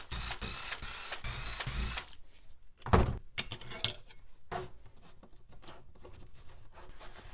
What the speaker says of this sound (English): I'll take the screws out and we'll have a look.